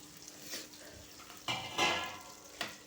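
Three small chopped onions fry quietly in a pan, a soft sizzle broken by a few short scraping stirs of a utensil.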